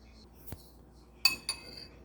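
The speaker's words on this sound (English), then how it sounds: "clay spoon utensil" A clay spoon clinks against a dish a few times, close and fairly faint: a soft tap, then two sharper ringing clinks in quick succession.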